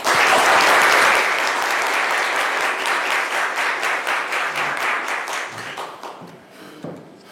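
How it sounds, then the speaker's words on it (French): Studio audience applause begins as a loud, dense burst of clapping, then thins into scattered individual claps that taper off toward the end. "Sous vos applaudissements."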